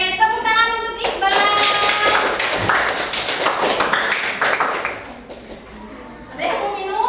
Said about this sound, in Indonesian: Oke, tepuk tangan untuk Iqbal